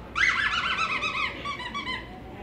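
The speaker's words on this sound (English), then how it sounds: "that's got a big squeaker." A squeaky dog toy in a pet store gives a bright, wavering squeal lasting over a second, then a fainter trailing squeak, close by.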